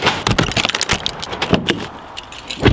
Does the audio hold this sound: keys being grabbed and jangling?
yes